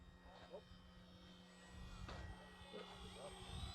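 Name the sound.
FMS Cub RC plane flying overhead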